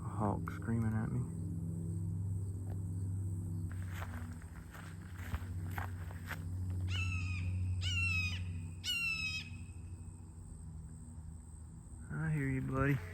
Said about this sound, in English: A hawk screaming at me.